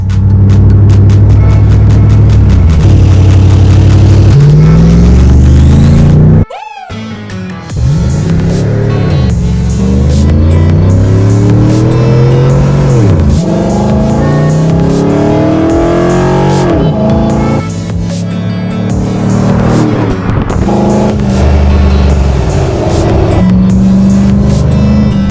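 A Chevrolet Silverado fitted with a K&N cold air intake revs hard and repeatedly, its engine roaring loudly up and down in pitch with a brief cut partway through, close by and with no talking.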